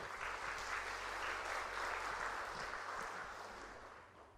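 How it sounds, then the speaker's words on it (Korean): A church congregation at a Methodist service applauds together, steady dense clapping that holds for several seconds before slowly fading toward the end, with no talk over it. "우리 한번 하나님께 영광의 박수 돌리겠습니다"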